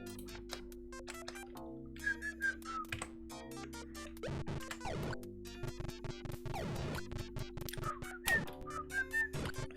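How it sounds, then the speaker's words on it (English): A person whistles short melodic phrases in two brief bursts while playing Commander Keen: Marooned on Mars on a computer, over clicky game sound effects and key taps. "I shouldn't be whistling, I'm sorry."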